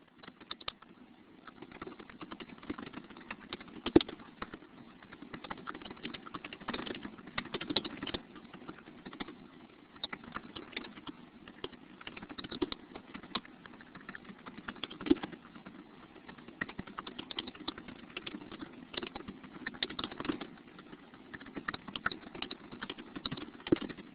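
Steady, quiet clicking of keys on a computer keyboard continues in irregular bursts for over twenty seconds, close and unaccompanied by talk.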